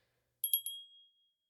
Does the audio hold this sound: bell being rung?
yes